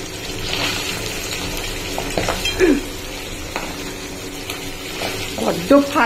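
Fish rubbed with salt, turmeric and oil fries in hot oil, crackling and spattering with a few sharper pops, while a person talks over the sizzle.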